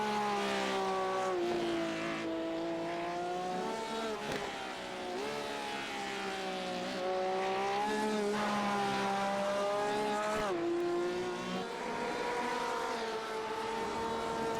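Porsche race cars roar around a race track, a steady high engine drone with shifting pitch as cars pass and change gear, loud and continuous.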